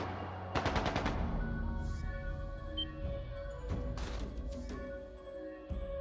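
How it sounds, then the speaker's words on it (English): Gunfire in the video game Trails of Cold Steel 2: a rapid burst of machine-gun shots cracks out early, followed by scattered distant shots and echoing impacts over a low, tense musical backdrop. "That sounded like gunfire."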